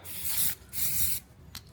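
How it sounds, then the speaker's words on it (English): A spray can of primer misting onto the bare metal of a self-build camper van in two long close hissing bursts, then a short final puff. "I'm just spraying some primer around my bare metal."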